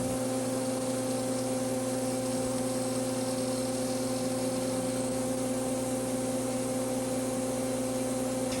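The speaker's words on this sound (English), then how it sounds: "The die is pulled by a hydraulic cylinder past the inclined surface at a rate of 1 foot per minute." A hydraulic cylinder pulls a die past an inclined surface to shape heated aluminum, giving a continuous, even mechanical hum with a steady pump-like drone that holds unchanged throughout.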